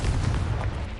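Confringo blasting spell explosion in Hogwarts Legacy, a short, loud booming blast with a rumbling low end and a crackle, heard alone.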